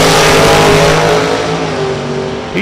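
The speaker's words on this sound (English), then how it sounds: "And the Burgundy Dragster over on the spectator side" A dragster roars loudly and continuously down the strip at Kil-Kare Dragway, with its engine pitch holding steady and then shifting slightly as it nears the end.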